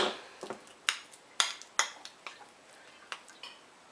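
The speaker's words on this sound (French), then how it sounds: "je vais commencer à en écraser un petit peu à la cuillère" A spoon mashes avocado in a bowl for a homemade hair mask, giving a series of sharp, close clinks and taps spaced irregularly, each quickly fading, with no voices.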